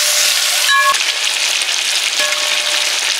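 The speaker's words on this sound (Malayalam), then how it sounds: "അപ്പം നമ്മൾ വറക്കാൻ വെച്ചേക്കുന്ന ചിക്കൻ നല്ല അടിപൊളിയായിട്ട് ഫ്രൈ ആയിട്ട് വന്നിട്ടുണ്ട്" Chicken pieces frying in hot oil in a pan for biryani, a steady loud sizzle throughout with a brief clatter of utensil or pan around the first second.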